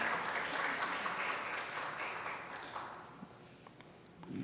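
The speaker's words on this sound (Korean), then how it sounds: "가실 때 힘찬 박수로 격려해 주시기 바랍니다." A church congregation applauds during a Sunday service at a Korean church, steady distant clapping that slowly thins and fades with a few louder claps near the end.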